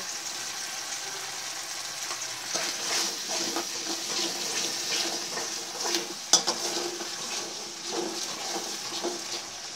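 Ground cumin and spice powders sautéing in a pan for potato curry, a steady bright sizzle with stirring scrapes and one sharp clink, moderately close with no voices.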